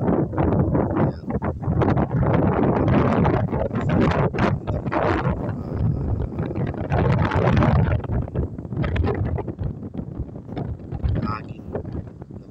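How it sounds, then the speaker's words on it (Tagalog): Strong wind by the sea at a cove buffets the microphone in loud, rushing gusts that rise and ease, with a person talking through it. "Tapos ang lakas po ng hangin."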